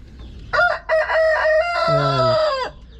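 A rooster crows loudly and close by, a single long drawn-out call with a few short clucks just before it.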